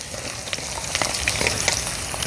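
Onion frying in a pan, sizzling steadily and close with crackling pops throughout.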